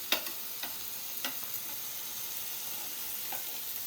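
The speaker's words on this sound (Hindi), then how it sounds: "इसको आप थोड़ा शैलो फ्राई जैसा भी कर सकते हैं, कोई प्रॉब्लम नहीं है।" Vegetables shallow-frying in ghee sizzle in a steady hiss, broken by a few faint ticks and crackles, with no voices.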